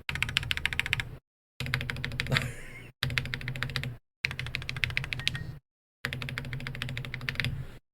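Rapid, crisp keystrokes clatter in several bursts separated by short silences, typed on a pricey custom-built mechanical keyboard with a slightly hollow-sounding stabilized spacebar, close and clear.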